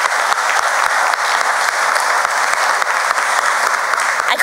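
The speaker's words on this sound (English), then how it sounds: "So big, big round of applause for them." A crowd applauds a youth group at a New Britain All-America City celebration, with loud, continuous, even clapping that fills the whole stretch with no voices on top.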